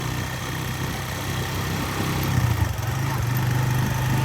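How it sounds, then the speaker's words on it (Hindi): A motorcycle loaded with okra runs steadily on the road, its engine giving a continuous low drone with a rough, buzzing texture that swells slightly midway, close and alone without speech. "मोटरसाइकिल पे लोड कर लिए भिंडी और अब निकल रहे हैं इंशाल्लाह सीधे घर को।"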